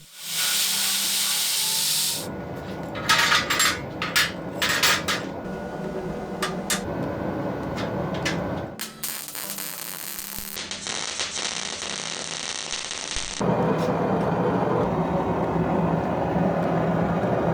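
Hand forge welding a Damascus billet of pumpgun steel and 15N20 layers: a steady roaring hiss runs throughout, broken by sharp bursts of hammer strikes and scraping, with no talk.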